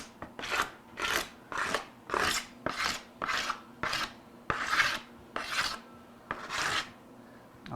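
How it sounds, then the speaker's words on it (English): A hand scraper works glue off highly figured wood on a 1964 ES-335-style guitar build, making about a dozen evenly paced, rasping strokes, close and clear, with nothing else heard. "We're just scraping some glue here."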